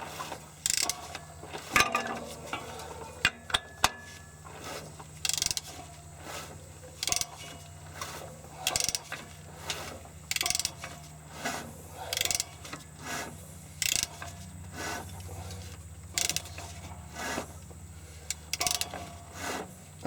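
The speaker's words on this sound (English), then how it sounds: "Put my ratchet on it." Ratchet wrench clicking in repeated short bursts while working on a 1989 Dodge Ram, each pass a quick run of sharp pawl clicks with pauses between, close and fairly clear over a low steady hum.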